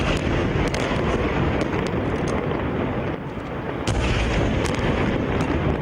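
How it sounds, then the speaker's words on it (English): Bombardment explosions in Gaza in July 2014, played back from a recording: a dense, continuous roar of blasts and rumble with sharp cracks scattered through it, loud and sustained. "Now this bombardment you will see."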